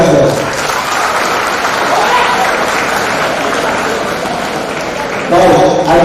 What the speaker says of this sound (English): Let's clap for all these answers.